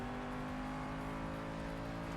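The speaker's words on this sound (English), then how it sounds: "Twin turbo V8 behind my head." The twin-turbo V8 of a race car in Project CARS 3 drones at a steady, loud pitch with strong harmonic tones, held throughout without speech.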